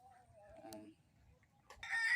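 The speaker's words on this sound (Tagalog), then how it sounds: "Ating mga alagang manok." Chickens cluck and a rooster crows nearby, in short bursts with quiet gaps between calls.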